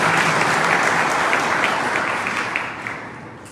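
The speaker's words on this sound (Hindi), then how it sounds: "एक बार जोरदार तालियों के साथ दादा का स्वागत करें" Loud, dense applause from a crowd at a political meeting in Bhopal, welcoming a guest addressed as Dada. It fills the whole stretch and fades slightly toward the end.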